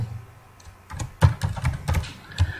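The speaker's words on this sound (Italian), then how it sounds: "Se io qui dentro scrivo Massimo" Quick keystrokes on a computer keyboard as a name is typed in, a short burst of close, irregular clicks over about two seconds with no voices.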